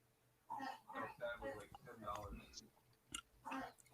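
Soft, close chewing and crunching of a pita chip dipped in hummus, irregular bites spread across several seconds under quiet, low-level sounds.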